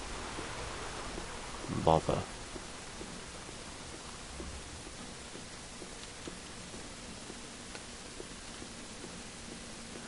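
Rain falls steadily in the survival game The Forest, a soft, even hiss that runs throughout, with a man's brief spoken remark around the two-second mark.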